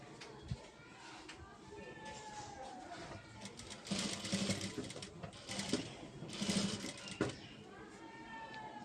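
A sewing machine stitches a blouse meant to go with a tissue saree, its steady mechanical whirr running close and continuous, rising in louder stretches midway, with a voice speaking over parts of it.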